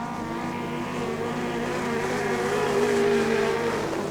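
Speedcar with a Gertie engine and Stealth chassis racing at night at Archerfield Speedway in Brisbane, a loud close engine howl that climbs steadily in pitch as it accelerates, heard alone without talk.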